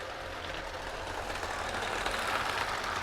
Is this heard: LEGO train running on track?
yes